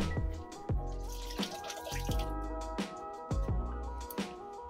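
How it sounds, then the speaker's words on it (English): Tap water splashing and rinsing the roots of a ficus bonsai, a close, continuous watery rush broken by repeated uneven thuds and splatters as the roots move under the stream. "Now I'm gonna wash it off and get it put back in its pot with some better soil."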